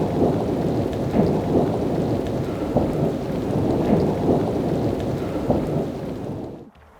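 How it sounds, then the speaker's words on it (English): Heavy rain drums steadily on a tent during a thunderstorm in the Wind River Range, with repeated rumbles of thunder rolling through before the sound cuts off abruptly near the end. "It's raining harder now, right?"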